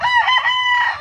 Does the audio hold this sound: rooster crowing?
yes